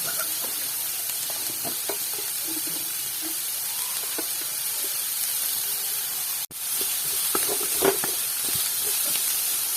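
Small-chopped onions with salt sauté in a pan for a chicken pathiri dish, giving a steady, even hiss of frying with soft scattered stirring clicks and one brief dropout, and no one speaking.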